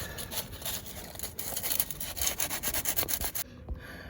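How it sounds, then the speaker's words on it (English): 60 grit sandpaper rubbing excess paint off metal, a close, rhythmic scratchy scrubbing that quickens toward the end, then a brief pause with a couple of light knocks. "I'm just going to get a bit of sandpaper on it, a bit of 60 grit just to get some of the excess paint off of that"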